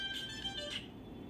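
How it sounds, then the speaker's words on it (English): The moonwalk ringtone plays on a Tecno Spark 6 Go phone: a short, bright run of electronic tones in quick succession, clear and close, with no talk. "I will select this moonwalk sound"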